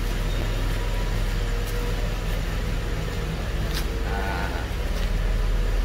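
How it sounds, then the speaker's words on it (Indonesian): Exhaust of a stock, unmodified classic car with a smooth engine, idling steadily, heard from behind the car: a continuous, even low rumble at a constant level throughout, with no talk over it. "Nah sekarang kita dengerin nih suara knalpotnya ya"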